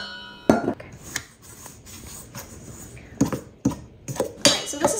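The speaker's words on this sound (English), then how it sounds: "I'm gonna add all of the dry ingredients and mix really well." Dry ingredients being mixed into habanero sugar cookie dough in a kitchen bowl, with scattered knocks, clinks and scrapes of utensils against the bowl, nearby and moderately loud, with quiet gaps between bursts.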